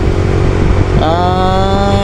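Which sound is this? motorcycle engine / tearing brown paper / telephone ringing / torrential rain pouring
motorcycle engine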